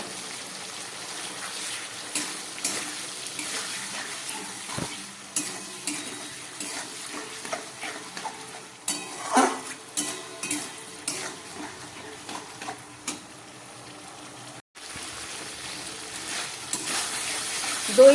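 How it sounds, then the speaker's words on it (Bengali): A spice paste mixed with sour yogurt fries in a pan under a soft, steady sizzle, with frequent scraping and knocking of a spoon against the metal as it is stirred, close and fairly quiet. "দইটা দেবার পরে মশলাটা দিয়ে প্রায় 2 মিনিটের মতো খুব ভালো করে কষিয়ে নিলাম"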